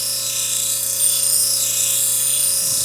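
A stone's girdle smoothed on a small, inexpensive intarsia lapidary machine, a steady close hiss and whine of grinding with a constant motor hum throughout, no voices.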